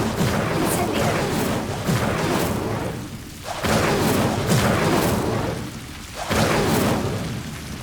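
Incendio fire spell cast in the Hogwarts Legacy video game, giving repeated loud whooshing fiery bursts with booming roars, three surges over a dense rumbling game soundscape.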